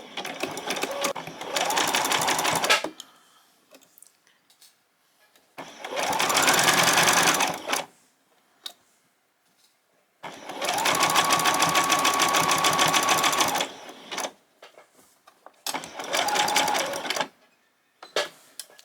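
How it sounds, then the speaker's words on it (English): Sewing machine stitching a long-sleeved T-shirt seam in four sustained runs of fast, steady whirring, each a few seconds long, with quiet gaps of fabric handling between them. "we will take it to the sewing machine and we will sew it"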